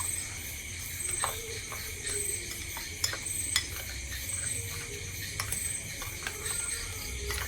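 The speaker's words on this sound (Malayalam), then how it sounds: "ഇത് നന്നായിട്ട് മിക്സ് ആക്കാം" Neyyappam batter stirred in a bowl, a soft continuous scraping with faint clinks of the spoon against the side, steady and close, over a low background hum.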